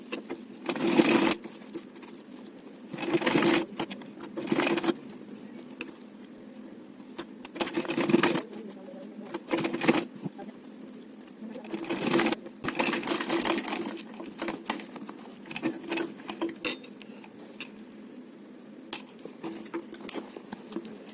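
A sewing machine stitches a lace border onto a small Janmashtami dress for a Laddu Gopal idol, running in short, stop-start bursts of whirring with quiet pauses between runs.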